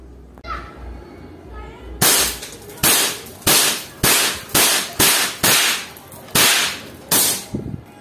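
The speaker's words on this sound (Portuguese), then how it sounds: "Rossi R8 na ação dupla contra um bloco usando chumbinho rifle Pro Max" A Rossi R8 5.5 PCP air rifle fires pellets at a brick in a series of about ten loud, sharp cracks at roughly half-second to one-second intervals, each with a brief hard decay, close to the listener.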